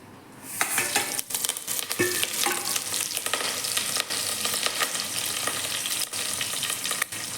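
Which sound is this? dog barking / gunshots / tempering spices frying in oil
tempering spices frying in oil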